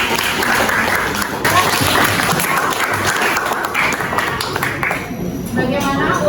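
A chemistry class applauds a student group, loud dense clapping from the whole room with some voices mixed in, continuing steadily throughout.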